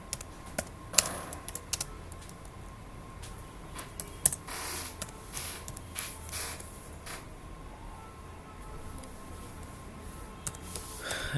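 C++ code is typed on a computer keyboard with irregular close key taps and a few louder strokes, steady throughout with no talking.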